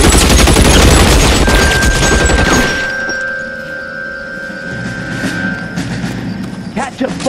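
Gunfire in the video game L.A. Noire, a loud dense burst of rapid shots for the first few seconds, then quieter sporadic shots and thuds over a sustained tone, with shouting voices mixed in.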